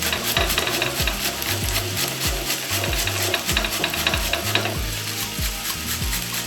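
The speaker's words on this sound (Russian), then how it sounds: "Теперь на более крупную терку я натираю 1 луковицу." A medium onion is rubbed down a coarse kitchen grater in quick repeated strokes, each pass giving a close, rasping scrape in a steady rhythm with no talking.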